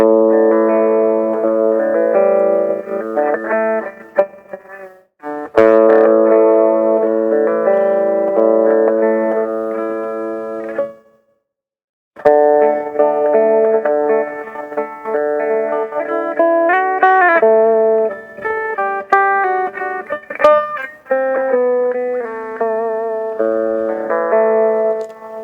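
A distorted electric guitar plays through a Marshall MS-2 or Fender mini amp, loud and buzzy. Sustained chords and note runs come in several phrases with brief gaps between them.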